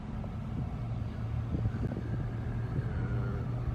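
Strong, gusty wind in the aftermath of Hurricane Laura, a steady loud low roar that swells slightly midway and continues throughout, with no voices.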